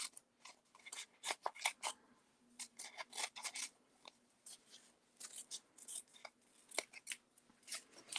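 Scissors snip repeatedly around a stamped design on sticky-backed paper, close and crisp, in steady bursts of short cuts with brief pauses, with no voices.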